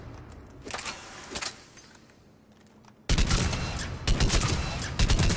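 Argus assault rifle fire in the video game Mass Effect 3, short bursts of rapid gunshots that start out fairly soft and then turn loud, dense and close after a pause, with no talking.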